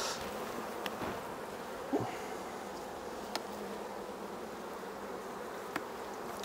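Honeybees buzz steadily around a hive in a continuous, moderately quiet drone, with a few brief louder passes of individual bees close by and no voices.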